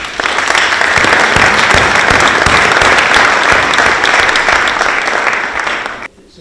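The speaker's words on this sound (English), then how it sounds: "I want you just to give a round of applause for that" An audience at a formal anniversary lecture in a hall gives sustained applause. The dense clapping stays loud and even for about six seconds, then cuts off abruptly.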